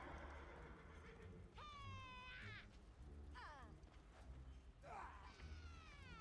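A horse mount in World of Warcraft: The War Within whinnies several times in high, shaky bursts over a low background rumble.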